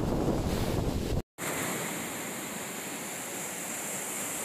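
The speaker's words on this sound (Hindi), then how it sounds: "ये देखिए पानी का फोर्स बहुत तेज आ रहा है।" Rushing water of Vasudhara waterfall near Badrinath roars as a loud, steady broadband wash with wind buffeting the microphone, interrupted by a brief cut.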